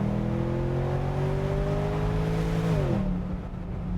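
A BMW 650Ci with a naturally aspirated V8 engine holds a steady, moderately loud drone with a rising tone, then the revs drop away near the end, heard alone without talk.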